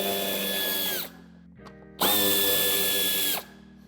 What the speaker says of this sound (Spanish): tenemos que aflojar los dos tornillos de Torx de 25